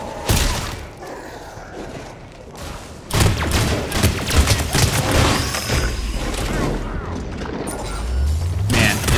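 Heavy weapon in the Mass Effect 3 multiplayer game spinning up and firing in a sustained, loud barrage of booming gunfire and mechanical clatter, with a voice speaking over the action.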